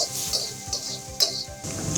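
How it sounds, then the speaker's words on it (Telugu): Onions sizzling and frying in a pan in an Andhra-style home kitchen, a steady close hiss with occasional brief stirring bursts, no talk. "ఉల్లిపాయలు ఉల్లిపాయలు వేగాలండి."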